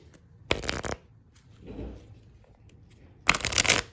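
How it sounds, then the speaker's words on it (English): Two quick bursts of a card deck being riffle-shuffled, crisp and close, separated by a quiet gap with a faint soft rustle. "I'm going to give the cards a shuffle."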